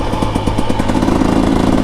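A 2025 Husqvarna TE 300 Heritage edition motorcycle idles with a deep, loud exhaust burble, its rapid rhythmic pulses thumping steadily close by before the note swells slightly.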